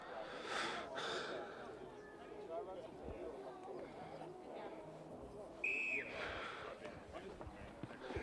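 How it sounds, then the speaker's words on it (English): A referee's whistle blows once, short and clear, for kickoff at a women's rugby match between CSU and Mudgee. It cuts through a steady crowd murmur while a voice talks. "there's the first whistle as we kick off"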